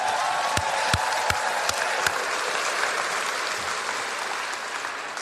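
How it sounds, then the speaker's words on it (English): A rally crowd at a get-out-the-vote event breaks into steady, dense applause with a few sharper claps and light cheering. It is loud at first and eases slightly toward the end, with no talking over it. "Give yourself a round of applause."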